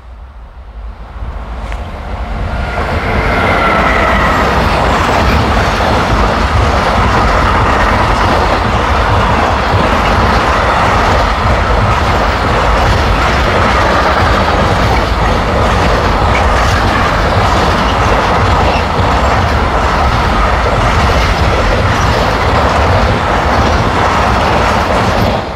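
Near Lehrte in Germany, a freight train loaded with square and round containers thunders past close by, its wheels clattering in a continuous loud roar that builds over the first few seconds and stays heavy to the end.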